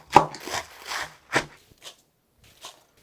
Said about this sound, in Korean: 쪽파 500g을 썰어서 넣어줄게요.